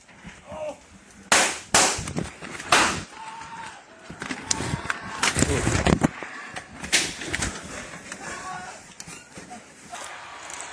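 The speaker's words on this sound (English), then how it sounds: "All in all, 12 shots rang out." Twelve gunshots ring out in a sharp, irregular string of loud cracks that cluster together, some close and others fainter, with no talking.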